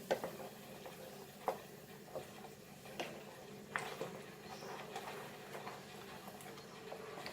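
Mutton rogan josh with curd is stirred in a pan, with soft scraping and periodic light taps of the spoon against the pan over a faint simmering hiss, quiet and close, with no talk.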